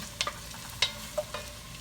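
Onions cooked down in a pot for old-school cafeteria spaghetti sauce, stirred with a utensil: a soft sizzle underneath with a handful of sharp scraping clacks against the pot, close and unaccompanied by voices.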